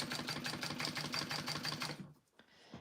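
A sewing machine basting a clear vinyl bag piece runs in a steady, rapid stitching rhythm for about two seconds, close and fairly loud, then stops and falls quiet.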